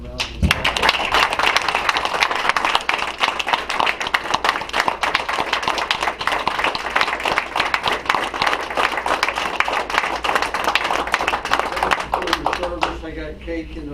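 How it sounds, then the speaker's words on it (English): A council meeting audience gives the Honor Guard a long round of applause, dense hand clapping filling the room with occasional thumps, steady and loud before tapering off at the end. "Let's give these Honor Guard a round of applause."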